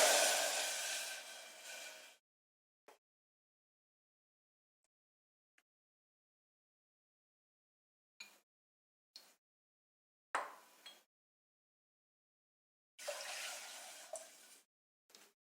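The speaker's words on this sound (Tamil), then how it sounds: "இதில் 2 கப் தண்ணி ஊற்றிடலாம்." Water is poured into a cooking pot while making spinach pulao, a brief splashing pour at the start, then near silence with a few faint clinks and short bursts of pouring or handling later.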